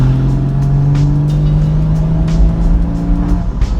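Porsche 981 Boxster GTS with its 3.4-litre flat-six on the road, the engine loud and close, holding a steady rising tone before an abrupt shift and a rougher, throbbing pull, with no talking.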